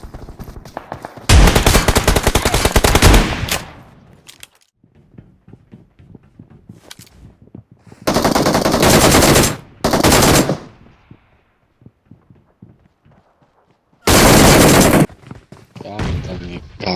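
Loud, close bursts of rapid gunfire in the mobile shooter BGMI, three long sustained volleys separated by quieter stretches of game sounds and faint ticking.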